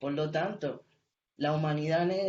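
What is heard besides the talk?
No distinct noise like a dog, phone or traffic.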